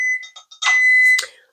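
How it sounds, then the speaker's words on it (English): Kitchen timer beeping during bacon cooking: a few short high beeps followed by one longer loud tone, close by and alone with no talk. "that timer means it's time to check my bacon"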